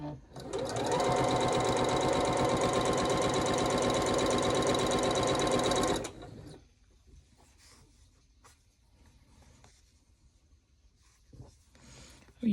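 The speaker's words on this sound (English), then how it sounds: "we're going to be sewing corner to corner" A sewing machine stitches a quilt block corner to corner in a loud, fast, steady whir for about six seconds, then stops, leaving quiet handling noises and faint rustles.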